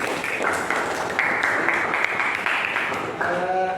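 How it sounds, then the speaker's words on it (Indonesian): Classroom applause for two students after a teaching performance assessment: a short burst of steady group clapping, fairly close, with a voice briefly heard at the end. "tepuk tangan buat Mas Dari dan Mas Fahri"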